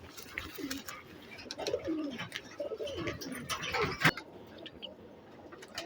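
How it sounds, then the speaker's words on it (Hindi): A very old blue-eyed pigeon coos repeatedly in close, throaty bursts, with some rustling and a sharp knock partway through. "बहुत ही ज़्यादा उम्र दराज कबूतर है"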